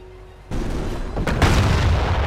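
Cluster bombs from an SD-2 butterfly bomb airdrop burst in a Company of Heroes battle, a sudden heavy boom followed by a sustained roar of overlapping blasts and crackling detonations, loud and close.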